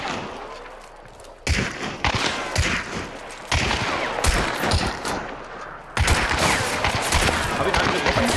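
Sharp gunshots in Hunt: Showdown crack out in separate bursts, each a loud, sudden hit followed by echoing tails, spaced a second or two apart over a quieter outdoor background.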